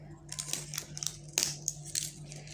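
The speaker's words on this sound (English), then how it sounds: "Okay, I have scissors." Scissors cut and crunch through the plastic packaging of a glitter-edition Hello Kitty surprise egg at close range, giving a few quiet, irregular crinkling snips over a low steady hum.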